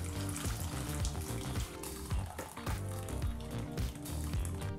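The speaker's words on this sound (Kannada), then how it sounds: "ಹೆಚ್ಚುವರಿ ಇರತಕ್ಕಂಥ ನೀರನ್ನು ಹಾಕ್ಕೊಳ್ತಾ ಇದ್ದೀವಿ ಬಾಣಲಿಗೆ" Leftover cooking water from boiled dal and greens poured into a pan for palak dal pappu, a busy splashing and sizzling wash with bursts of liquid churn, heard close and steady for a few seconds.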